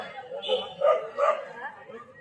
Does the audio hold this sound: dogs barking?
yes